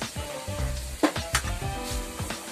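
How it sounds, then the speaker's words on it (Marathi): Grated coconut being stirred into Malvani val bean bhaji as the water cooks off in the pan, a soft sizzle broken by a few spoon scrapes and light knocks against the pan, close and moderate. "आणि हे फिरवून घ्यायचं, व्यवस्थित फिरवून घ्यायचंय"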